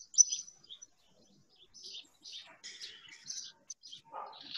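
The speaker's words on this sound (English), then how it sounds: "I can hear some beautiful birds in the background." Faint bird chirps and tweets scattered across a quiet background, short high calls coming in small bursts, no one speaking.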